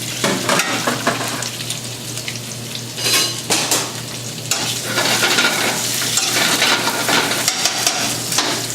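Shrimps hit a pan of browned garlic for seafood fettuccine, sizzling loudly and steadily close up, with occasional stirring clatter and utensil scrapes against the pan.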